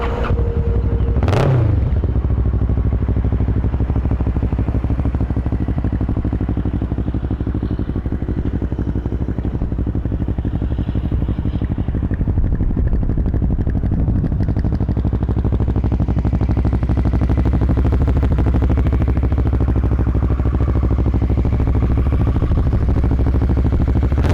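A Kawasaki ER6N ER650C motorcycle with 5,688 miles idles steadily close by, a constant low engine rumble with a brief sharp blip near the start and no speech over it.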